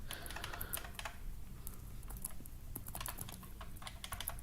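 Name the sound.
typing on a loud computer keyboard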